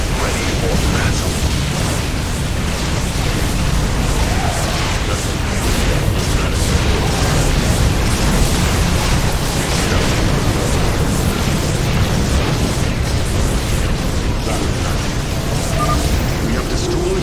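A Tal'Darim mothership blows apart in StarCraft 2 amid a loud, continuous roar of explosions and rumbling bursts that fills the whole stretch, with voices faintly mixed into the din.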